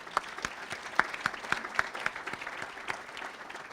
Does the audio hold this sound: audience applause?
yes